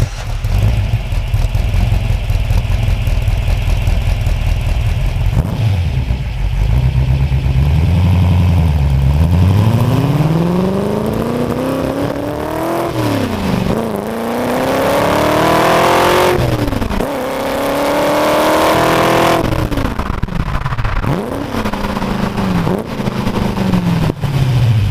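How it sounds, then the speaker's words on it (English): A 1966 Ford GT40 engine breathing through Weber carburetors revs hard and loud, its pitch sweeping up and down through several throttle blips and climbs across the whole stretch, with no voices over it. "so you get this real kind of classic, vintage, clack sound when you get on the throttle."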